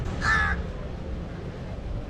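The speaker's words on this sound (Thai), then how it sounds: "อีกา" A single crow gives one loud, close caw beside a canal in Melaka, followed by steady outdoor background noise.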